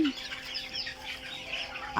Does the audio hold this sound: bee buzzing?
no